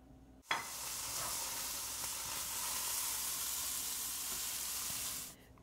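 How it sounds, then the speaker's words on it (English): Unsweetened coconut flakes sizzle steadily in coconut oil in a pan over medium heat, a dense, even frying hiss that starts with a sharp burst as they hit the pan and holds with occasional stirring scrapes until it cuts off. "I'm gonna use this to toast some unsweetened coconut flakes"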